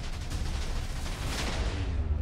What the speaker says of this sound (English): I died in that explosion